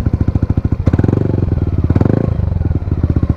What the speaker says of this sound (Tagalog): pasado po to ang gantong exhaust para sa mga gustong magpalit ng pipe